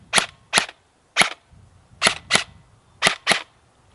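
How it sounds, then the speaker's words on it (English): Seven sharp, snappy shots from an airsoft gun fitted with a silencer attachment, fired singly and in quick pairs with brief pauses, each a crisp, close pop with a short tail. "So now you're going to hear it as it shoots with an attachment."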